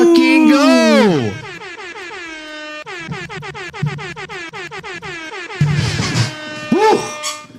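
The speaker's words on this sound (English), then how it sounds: "Breaking the air horn on that one, Drew." A loud air horn sound effect blares in repeated pulsing blasts, with excited voices and shouting mixed over it near the end.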